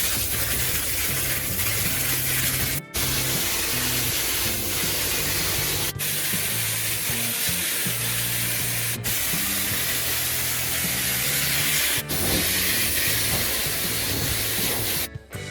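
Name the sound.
spatter paint being spray-applied to classic car body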